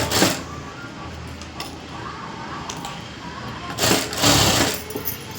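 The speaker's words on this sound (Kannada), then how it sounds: "ಇದನ್ನು ಒಂದು 1/4 ಇಂಚಷ್ಟು ಸುಮ್ಮನೆ ಒಂದು ಡೆಮ್ಮಿ ಸ್ಟಿಚ್ಚು ಹಾಕ್ಕೊಳ್ಳಿ" A sewing machine runs a loose quarter-inch tacking stitch to join blouse front and back, with two short whirring bursts at the start and near the end around quieter fabric handling.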